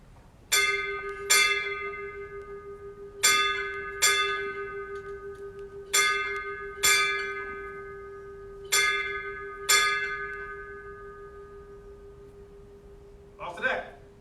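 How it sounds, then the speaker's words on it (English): A ship's bell aboard the submarine USS Pittsburgh (SSN-720) strikes eight bells at its inactivation ceremony, ringing in four evenly spaced pairs of bright, ringing strikes that decay between pairs, with a brief murmur of voices at the end. "Strike 8 bells."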